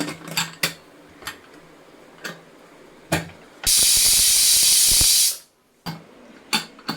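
A pressure cooker of mutton curry lets out a loud, steady hiss of steam lasting under two seconds, set among scattered clicks and knocks of kitchen activity.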